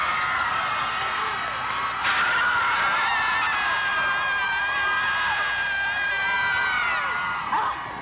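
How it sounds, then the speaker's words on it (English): Many students scream and whoop out of open windows during finals week, a dense sustained chorus of high shrieks and yells carrying across the campus, loud and continuous with individual voices rising above the crowd. "Everybody takes 10 minutes to open the windows and scream."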